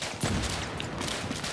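Sustained gunfire in the video game Battlefield 3, a dense rattle of overlapping shots and impacts forming a continuous noisy barrage, moderately loud and close throughout.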